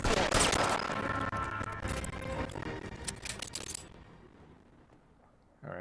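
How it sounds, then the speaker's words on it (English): Revolver gunshots in the video game L.A. Noire, a dense burst of sharp shots with metallic clatter over the first few seconds, fading into quiet. "shot his gun"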